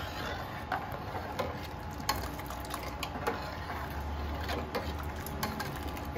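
Tamarind paste being stirred into simmering kadhi in a pot, a steady soft bubbling sizzle with scattered light scraping and clinks of a spoon throughout, no voices.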